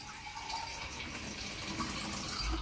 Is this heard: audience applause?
no